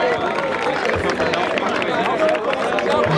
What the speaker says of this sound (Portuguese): Palmas pra essa batalha, por favor.